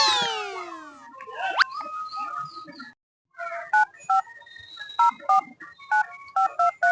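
A telephone being dialed: a series of short, evenly spaced keypad tones follows a brief swooping effect and a moment of silence, loud and close.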